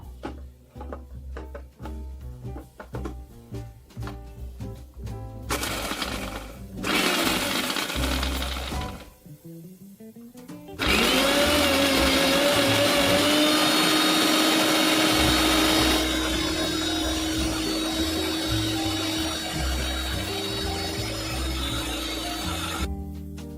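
A grinder whirs loudly as it turns whole coriander and melon seeds into a paste, running in bursts with short stops between, then settling into a long steady high whine.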